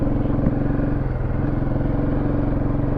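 A motorcycle engine idles and runs steadily close by, a continuous low throbbing rumble with a faint mechanical clatter and no break across the whole stretch.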